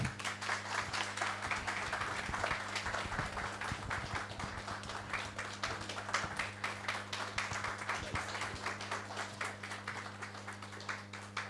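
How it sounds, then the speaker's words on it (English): A room full of people applauds to welcome the chairman at a Radiation Protection Institute public engagement event. The clapping is dense, steady and slightly distant, running unbroken for over ten seconds over a low electrical hum. "join me with a round of applause to welcome our chairman for today"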